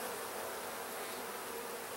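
Bees buzz in a steady, dense drone throughout a hive inspection of a four-week-old nuc, close and continuous with no talk.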